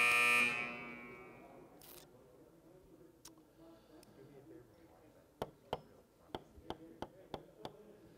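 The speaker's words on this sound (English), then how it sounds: "All right, buzzer sounds," A harsh electronic buzzer blares briefly at a high school basketball game. A quiet gym follows, with a commentator talking and a run of sharp, regular ticks or claps.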